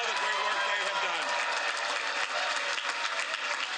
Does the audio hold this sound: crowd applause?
yes